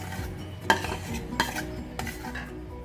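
A spoon stirs grated tomato into a cooking pot, with a few sharp clinks against the metal over soft background noise. No one speaks.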